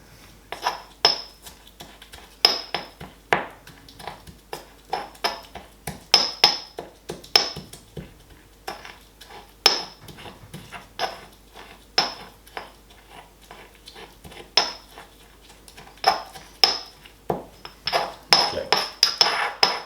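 Bee abdomens being crushed with a tool in a hard container give irregular sharp clinks and taps in quick bursts, close and fairly loud, with a brief word spoken.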